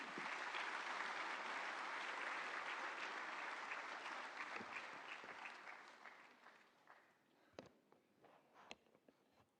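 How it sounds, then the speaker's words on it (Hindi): An audience at an Indian government event applauds to welcome the Union minister for sports, Dr. Mansukh Mandaviya; loud sustained clapping gradually thins out into scattered individual claps. "एक बार जोरदार तालियां हो जाएं।"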